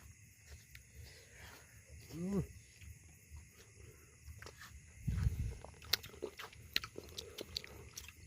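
Several people eat ripe mango with a spicy seasoning, their soft chewing and biting faint and close amid quiet outdoor ambience, with brief voices in the background.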